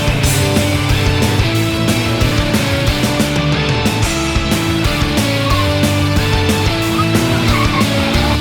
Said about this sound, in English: We were sliding, drifting.